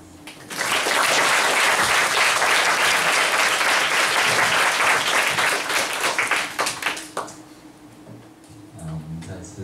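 A hall audience gives loud, dense applause for Teacher Zhang after a talk; the clapping holds steady for about six seconds, then thins and tapers off, with a few scattered claps and murmurs at the end.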